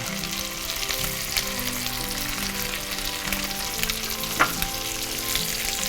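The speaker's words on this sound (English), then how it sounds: "I'm just going to take my fish and drop them right in." Trout pan-frying in hot oil gives a loud, continuous sizzle with steady crackling and occasional sharper pops, close and uninterrupted throughout.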